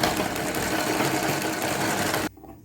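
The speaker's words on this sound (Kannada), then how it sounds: "ಇವಾಗ ನೋಡಿ ಹೀಗೆ ವೀಲ್ನ ತಿರ್ಸ್ಕೊಂಡು ನಿಧಾನಕ್ಕೆ ಹೀಗೆ ಹೊಲಿತಾ ಹೊಲಿತಾ ಹೋಗ್ಬೋದು" Sewing machine stitching fabric at a steady, even pace, with the hand wheel turned slowly; the close, continuous whirring runs for over two seconds, then cuts off abruptly into quiet.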